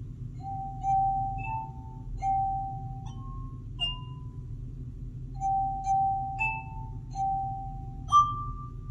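Water-filled wine glasses struck to play a simple tune, a sequence of clear ringing tones at changing pitches, each note sustaining briefly before the next, over a low steady background hum.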